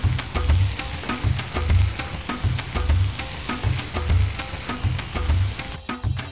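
Meat sizzles and fries on a hot granite stone with masala and oil, a continuous close crackle broken by regular low thumping stirs or presses, with no talking.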